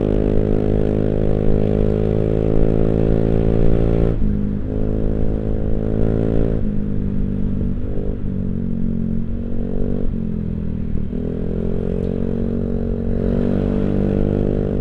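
A Honda Beat scooter fitted with a new toothpick-style aftermarket exhaust runs at steady revs, its smooth, mellow, fairly quiet drone droning close up with a brief dip and recovery midway through.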